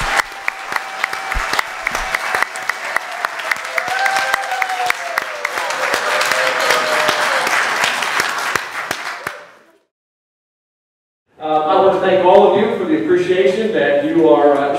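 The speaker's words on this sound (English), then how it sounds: "Give a big round of applause, please." Dense applause from a church congregation at a Pastor Appreciation Sunday service fills the hall for about nine seconds, then fades to silence before loud music or singing breaks in.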